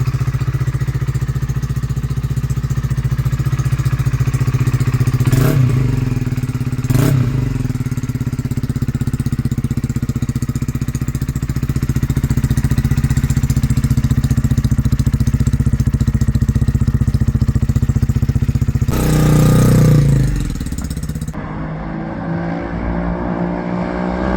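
A Honda CB125R motorcycle with a Scorpion full exhaust system, baffle fitted, idles close by with a steady, even drone. A couple of brief blips break the idle, and the tone shifts near the end.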